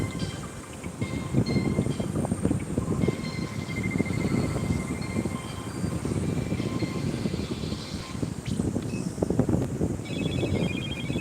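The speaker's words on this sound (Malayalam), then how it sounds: "ഫോൺ വേറെ അടിക്കുന്നുണ്ട്" A phone rings beside the Bharathapuzha river during a swimming competition: short, bright, repeated electronic ring bursts cut through a loud, constant wash of outdoor crowd and ambient noise.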